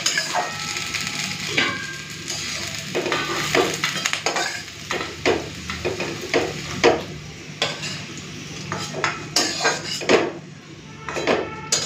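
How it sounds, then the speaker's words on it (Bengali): Fried potatoes, cooked until deep red, are scraped and lifted out of an oily kadai, giving repeated metal-on-pan clinks and stirring scrapes over a steady low sizzle. "এদিকে মোটামুটি আলু ভাজাটা হয়ে গেছে, তুলে নিই।"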